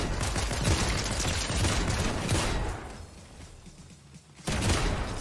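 Rapid DMR gunfire in Fortnite Ranked Zero Build, dense bursts of shots filling the first three seconds, a quieter pause, then firing picks up again near the end.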